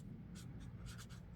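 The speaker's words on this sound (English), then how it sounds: "I should write Clothtales there." A pen writes by hand in short scratchy strokes, a handful of quick bursts close to the mic over a low background hum.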